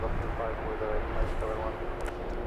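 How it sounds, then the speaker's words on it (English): An EasyJet airliner passes the tower at London Luton Airport, its steady engine roar filling the scene at a moderate distance, with a voice talking over it. "EasyJet just passing the tower."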